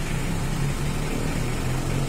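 A Mitsubishi L300 diesel engine idles after a fuel pump adjustment, a steady low rumbling chug with a faint rhythmic pulse, close and even, no voices.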